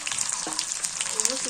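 Onion and cumin paste frying in a pan, a soft steady sizzle with faint crackles and light scraping, heard close and fairly quiet.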